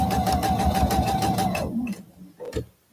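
A sewing machine stitches a quilt block seam, humming and ticking rapidly and steadily up close, then stops, followed by a few small handling clicks.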